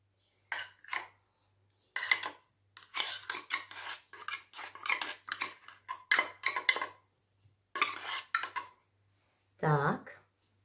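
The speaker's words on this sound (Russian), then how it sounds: "Сейчас на рис мы выкладываем тунец в масле." Canned tuna in oil scraped from a small tin onto rice with a utensil, giving a series of short metallic clinks and scrapes in separate bursts, close and fairly clear, with a voice speaking near the end.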